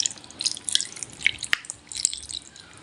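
Vinegar being poured and splashed over raw meat for Filipino kilawin, sounding as close, sparse drips and light liquid splashes with small irregular spatters, no voices.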